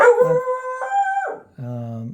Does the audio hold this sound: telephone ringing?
no